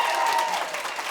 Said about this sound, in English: So can we first give a huge round of applause for Donatella for being here?